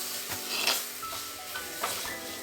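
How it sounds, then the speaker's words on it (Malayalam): Fish curry masala with turmeric and pepper being stirred in a pan, a soft close scraping and rubbing with faint sizzle running steadily throughout, with a few louder utensil strokes. "ഇത് നല്ലോണം ഇളക്കി കൊടുക്കുക."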